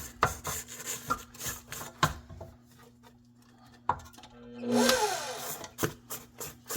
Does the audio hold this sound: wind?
no